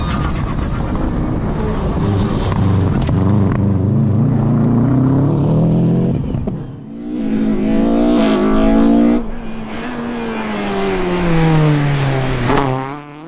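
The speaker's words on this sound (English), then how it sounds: "the superb sounding Impreza" A Subaru Impreza rally car on a stage, its engine roaring loud and close through rising and falling revs and gear changes, with a brief dip in the middle before it pulls hard again.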